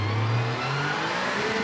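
An RX2 rally car in the racing game V-Rally 4 accelerates in short spurts. Its engine whine climbs steadily in pitch, then drops as it shifts and begins rising again, loud and alone.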